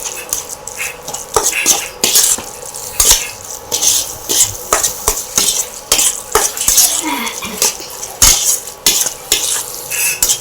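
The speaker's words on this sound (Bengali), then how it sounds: "এবার সব কটাকে আমি এটা 5 মিনিটের উপর কষবো" Lotte (Bombay duck) fish being sautéed in a pan, a steady sizzle broken by frequent scraping and clinking of a spatula stirring against the metal, close and busy throughout with no talking.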